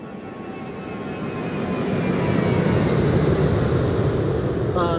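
Boeing 737-800 flyby in X-Plane 12, a broad jet roar swelling steadily louder over several seconds as it passes close, with a faint whine on top and no talking.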